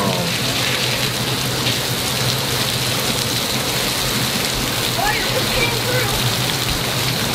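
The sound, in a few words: heavy rain pouring down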